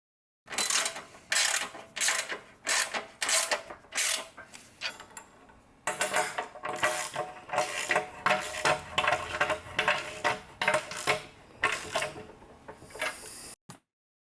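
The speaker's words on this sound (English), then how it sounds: "now we can tighten up the bolts on top and bottom" A ratchet tightens bolts on the top and bottom of a Versa press during assembly, giving close, repeated bursts of sharp clicking strokes with short pauses between them.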